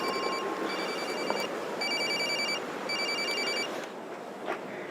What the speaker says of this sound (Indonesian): Telepon tuh, angkat.